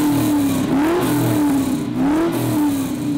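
A deep, rumbling LS3 V8 in a 1969 Chevrolet Camaro RS/SS revs up and settles twice in a row, loud and close, with the pitch rising and falling with each rev.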